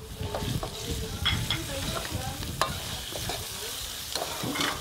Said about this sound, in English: Add the beef. Put all the beef, the meat.